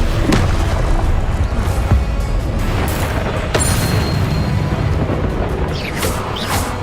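Confringo, a fiery blasting spell cast in the Hogwarts Legacy video game, sets off loud booms and crashes over a dense, continuous battle din, with sharp bursts near the start and middle.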